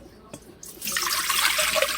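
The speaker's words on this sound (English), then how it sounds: "Take the 1 cup of water and put it into our mixing bowl." One cup of water is poured into a mixing bowl for cinnamon roll dough, starting with a light tap and then a steady, close splashing gush.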